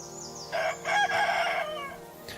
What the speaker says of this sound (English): rooster sang